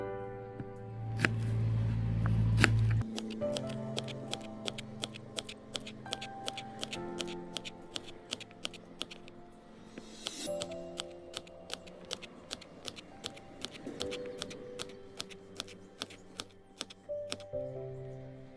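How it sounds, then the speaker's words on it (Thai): A kitchen knife slices through a halved onion on a cutting board, producing a steady run of sharp, close chopping taps that keep a regular rhythm throughout. "เราผ่าหัวหอมเสร็จเรียบร้อยแล้วเราจะมาทำการหั่นกันเลยครับ"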